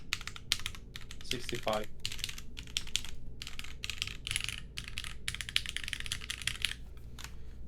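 Typing on a Synovia TKL mechanical keyboard fitted with grommets, with rapid, steady clacking keystrokes and an occasional louder, higher-pitched spacebar hit, while a person talks briefly partway through.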